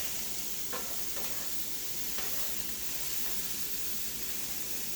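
A mixture sizzles softly and steadily in pepperoni grease on a Blackstone E Series 22-inch electric griddle, a constant close frying hiss with a few faint scrapes.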